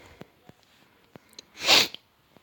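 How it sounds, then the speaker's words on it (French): Faint sniffs and small breaths from a person coming down with a cold give way to one loud wet sniffle or snort, close up, then quiet. "Excusez-moi pour les reniflements, je commence à être enrhumé"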